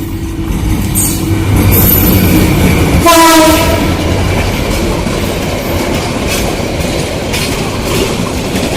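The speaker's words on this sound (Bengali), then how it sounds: "এটা হচ্ছে উপকূল এক্সপ্রেস উপকূল সাতশো বারো নাম্বার" Upakul Express passenger train hauled by locomotive 3020 approaching on the line toward Dhaka, a loud continuous rumble of wheels and carriages with a short horn blast partway through, close and steady throughout.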